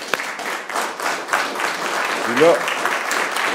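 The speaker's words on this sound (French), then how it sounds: "j'aimerais ça qu'on les applaudisse" Audience applause during a community festival celebration in Trois-Pistoles, a steady wash of clapping that runs throughout, with a voice speaking briefly over it partway through.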